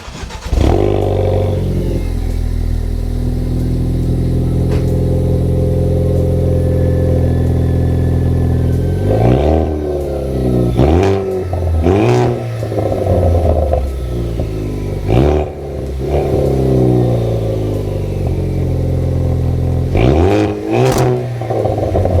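A Ford Focus ST MK3 with its exhaust resonator deleted idles loud and close, then is blipped through a series of sharp revs that rise and fall, ending in a final rev near the end.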